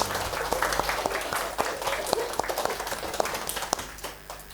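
Children in a classroom clap together during an Islamic religious education lesson, a busy patter of individual claps with some sharper close hands, moderately loud, with faint voices mixed in.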